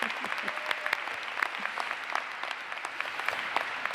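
Graduates of the College of St. Benedict class of 2018 receive applause at their commencement ceremony, where a large crowd claps in a crisp, scattered patter that sounds somewhat distant and continues throughout.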